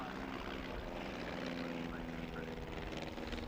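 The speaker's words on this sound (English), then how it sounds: "Aeroplanes like this beautifully built replica of the Royal Aircraft Factory's SE-5A" A replica Royal Aircraft Factory SE-5A WWI biplane drones past at a British airshow, its propeller engine a steady, distant-sounding hum throughout.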